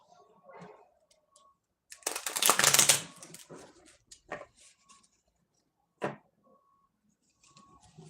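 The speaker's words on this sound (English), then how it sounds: "You can almost feel when the cards need to be shuffled" A deck of tarot cards is shuffled by hand: one dense riffling burst, then scattered shorter flicks and taps separated by quiet gaps, fairly close and soft.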